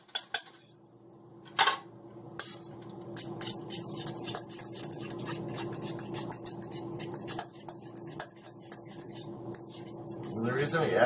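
Armour potted meat is mixed with a few drops of mustard in a bowl: a utensil clinks once, then scrapes and taps repeatedly against the bowl, with soft speech partly over it.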